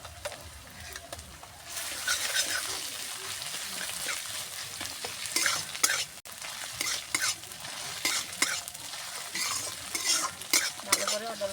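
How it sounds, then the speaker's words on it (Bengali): Ginger-garlic paste fries with browned onions in a pan for rajma, giving a steady crackling sizzle with repeated scraping stirs throughout, close and moderately loud, with no talking. "ভালো করে আদা রসুনটা কষিয়ে নেব, কাঁচা গন্ধটা যাতে চলে যায়।"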